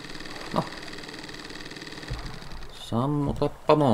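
Car engine idling steadily in Finnish Cottage Simulator, a continuous mechanical hum for most of the stretch before a voice cuts in over it near the end.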